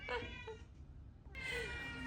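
A couple of short, nearby cat meows, followed after a pause by a louder, drawn-out meow.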